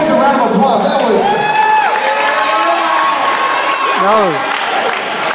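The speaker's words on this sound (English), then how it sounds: "round of applause." A church congregation in downtown Dallas, Texas, cheers and applauds loudly, with whoops and shouts rising over the clapping and a voice speaking briefly through the noise.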